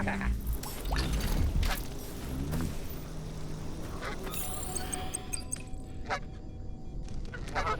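A character in the video game Atomic Heart voices goose-like honks, a voice imitating a goose, loud and repeated in bursts over dense game noise with scattered clatter.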